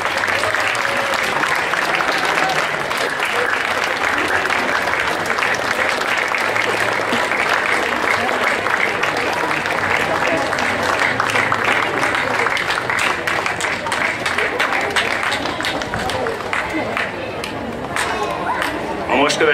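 Sustained audience applause fills a hall at a school year-end ceremony, loud and continuous clapping from a large crowd, with some chatter underneath, thinning briefly near the end before picking up again.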